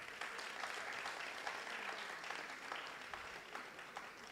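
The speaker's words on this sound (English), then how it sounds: "Oh, clap." Audience applause at the official launch of an AI Africa training programme: a dense, steady crowd clapping that holds an even level throughout, with no voices standing out.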